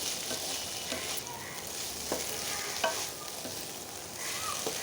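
Malabar spinach (puishak) frying in a pan while being stirred, giving a soft continuous sizzle with occasional light scrapes and taps of the spoon, fairly quiet and close, with no talking.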